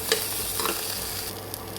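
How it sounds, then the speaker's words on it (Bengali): A spoon scrapes and stirs sugar into milk reduced in a pan for rasmalai, while a soft sizzle continues underneath. The scraping strokes are close and repeated, with no voices. "এবার আমি চিনি দিয়ে দেব স্বাদ মতো। এবার একটু নেড়ে নেব।"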